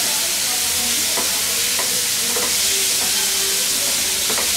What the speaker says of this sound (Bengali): একটু ভাজি।